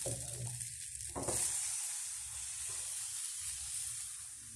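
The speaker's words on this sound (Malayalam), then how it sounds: "അപ്പച്ചട്ടി ചൂടായിട്ടുണ്ട് അതിലേക്ക് ഓരോ തവി മാവ് ചെയ്ത് ഒഴിച്ച് നമുക്ക് അപ്പം ഉണ്ടാക്കിയെടുക്കാം" Appam batter hits a hot appam pan with a soft, steady hiss of sizzling that stays faint and even after a brief clatter near the start.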